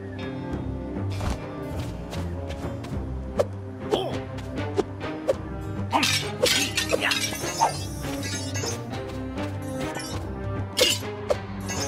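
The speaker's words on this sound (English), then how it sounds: "You really smashed those objects!" Objects shattering and breaking in the Hotel Transylvania: Scary-Tale Adventures game, a string of sharp crashes, thuds and glassy clinks spaced irregularly over a constant music bed, with no voices.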